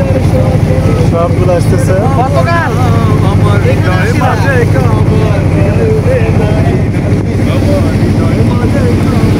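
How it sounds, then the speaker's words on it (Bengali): Trawler boats motoring along a river, with a loud, constant engine drone mixed with heavy wind buffeting, while people talk over it. "এই যে পেছনে দেখা যাচ্ছে আমাদের ট্রলার, আরো কিছু ট্রলার"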